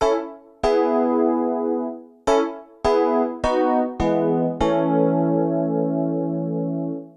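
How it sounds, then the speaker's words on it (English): Ballad electric piano patch on a Nord Piano 5 keyboard, several struck chords played one after another, each bright attack decaying slowly, the last one held and ringing out. "On panel A, we've got this ballad EP."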